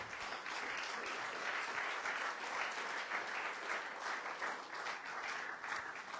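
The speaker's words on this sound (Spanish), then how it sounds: "denle un aplauso al Señor" Steady applause fills a church congregation as worshippers clap together, a dense, even wash of hand claps sustained throughout without pause.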